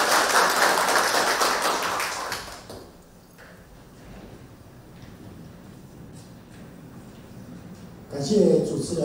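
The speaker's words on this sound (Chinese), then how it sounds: "现在就让我们用热烈掌声来欢迎国立台北教育大学" A crowd gives a burst of applause to welcome the principal of National Taipei University of Education at a school development briefing. The dense clapping fills the first two seconds, fades into room noise, then a short louder burst returns near the end.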